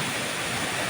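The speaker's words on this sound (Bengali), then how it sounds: "এই যে নিচে জলটা পড়ছে" Water falls down a waterfall near Rishop in the Darjeeling hills, a dense, steady broadband rush that is loud and continuous, with no talking over it.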